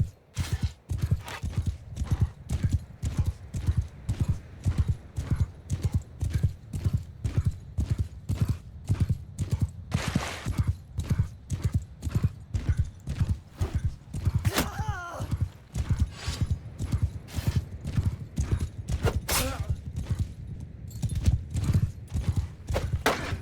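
Horses' hooves clip-clop in steady, rapid rhythm throughout a Mount & Blade 2: Bannerlord battle, dense and close, with an occasional whinny and someone shouting commands over the top.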